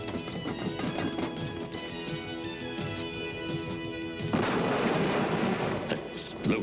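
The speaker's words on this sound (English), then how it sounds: "Explosions? The engines are breaking down." Explosions rumble aboard a failing spaceship as it escapes toward an asteroid belt in an animated Star Wars Droids episode, a dense, sustained blasting din that swells louder near the end, with no talk over it.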